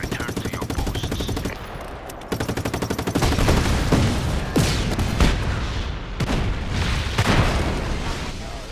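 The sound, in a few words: explosion and gunfire in The Division video game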